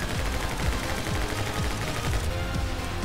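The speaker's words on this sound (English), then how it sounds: "I can shoot them." Rapid, continuous gunfire from the My Friend Pedro video game, dense overlapping shots and bursts filling the whole stretch at steady loudness with game music and effects underneath.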